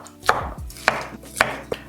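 A knife chops beef into small pieces for tapa on a cutting board, giving five sharp, close thwacks at an uneven pace with quiet gaps between them.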